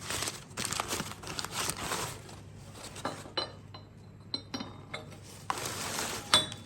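Lid of a ceramic tea kettle handled nearby, a few soft clinks and light rattles, sharp taps scattered over rustling handling noise at low volume.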